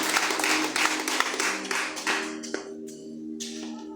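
A church congregation claps together in a rhythmic run of loud, close hand claps that fade toward the end, with a steady tone and faint voices beneath.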